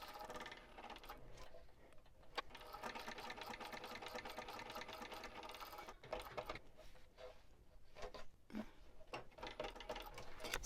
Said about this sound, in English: And then we just start stitching along those lines.